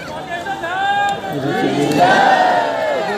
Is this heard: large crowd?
yes